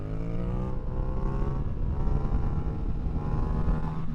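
A motorcycle riding over gravel, its engine droning steadily up close with a rough, rumbling texture underneath and no talk.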